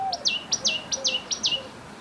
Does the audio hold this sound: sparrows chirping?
yes